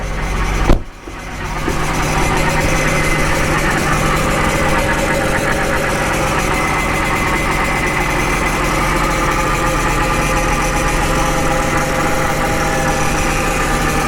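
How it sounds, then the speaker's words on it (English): A 2011 BMW with its power steering pump running gives a steady engine-like hum with a constant low drone and mechanical whine, after a brief bump near the start, close and continuous with no voices. "You could hear that pump."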